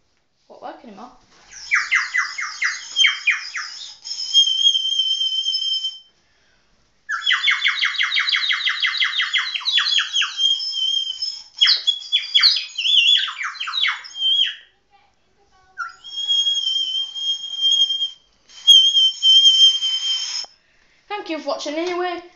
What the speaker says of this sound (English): So I'm going to blow through it now.